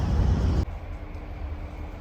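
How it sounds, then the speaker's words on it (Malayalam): Metro train at Union station, Abu Dhabi: a low, steady rumble of the ride that drops sharply in level after a loud first moment, then continues as a quieter hum. "അപ്പോൾ നമ്മളിതാ മെട്രോയിൽ കയറി കേട്ടോ"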